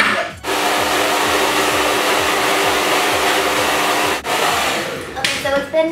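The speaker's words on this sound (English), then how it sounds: "I'm just going to blow dry it." A hair dryer blows hair dry with a loud, steady roar that stays constant for several seconds, cuts out briefly, then resumes with some shifting as it moves.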